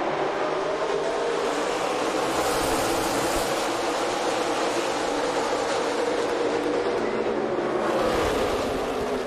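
NASCAR Xfinity Series stock cars roar as the field takes the start of the first playoff race at Kansas Speedway, a dense, steady engine wash with crowd-like broadband noise that swells slightly near the end.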